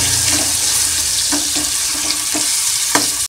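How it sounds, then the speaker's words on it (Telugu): Cumin, mustard seeds, onion and green chillies sizzle in hot oil, with fenugreek seeds, turmeric and ginger-garlic paste also in the pan; a steady close hiss with scattered small pops and stirring clicks throughout. "ఫస్ట్ ఆయిల్ వేసుకుందాం. కొంచెం జీలకర్ర, ఆవాలు, మెంతులు, ఆనియన్ అండ్ పచ్చిమిర్చి, పసుపు, అల్లం వెల్లుల్లి పేస్ట్."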